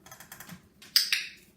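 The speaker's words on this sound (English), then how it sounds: "So I'm clicking her for moving back." Dog training clicker used while teaching a service dog to back up beside a powerchair, giving two sharp, close clicks in quick succession after a stretch of faint rustling.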